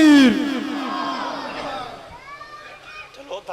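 A crowd at a religious rally for Allama shouts back in unison after a Naara-e-Takbeer call, a loud burst of massed voices that fades into lingering chatter and scattered shouts.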